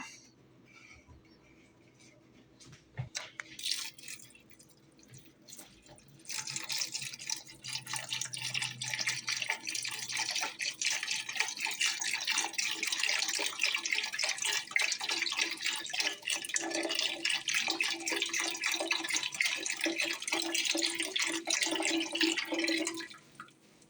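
Beef stock pours steadily into a large pot for most of the clip, a continuous splashing wash after a few quiet clinks, with no talking.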